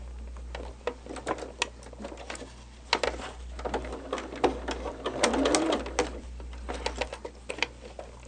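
A sewing machine stitches fabric in quick bursts of needle clatter broken by short pauses, close and fairly steady, with no talk over it.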